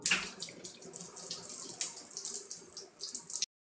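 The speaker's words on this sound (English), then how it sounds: "That is someone in the shower." A shower runs with a continuous hiss of water, fairly soft and steady with small surges, until it cuts off abruptly near the end. No one speaks.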